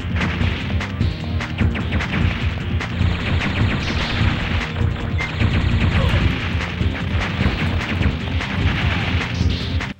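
Chain-reaction explosions tear through the Fermion reactor in the video game Silent Bomber, a dense, continuous barrage of booms, crashes and crackling blasts that stays loud throughout with no talking.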